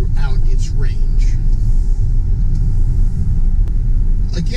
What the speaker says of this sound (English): I very much enjoy driving the car.